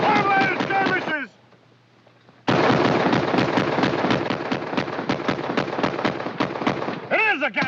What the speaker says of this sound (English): sounds like a Gatling gun